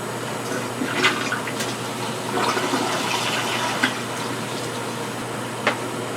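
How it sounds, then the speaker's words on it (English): A newly installed indoor toilet with modern low-water valves flushes in one continuous rushing, gurgling wash of water, loud and close, with a few splashy bursts along the way. "First flush."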